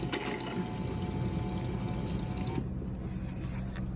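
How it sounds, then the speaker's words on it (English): Water runs steadily from the pump-fed tap in a VW T5 LWB camper van conversion, a close, constant gushing stream into the sink that thins out and quietens after a few seconds. "the pump will turn on when you open the tap"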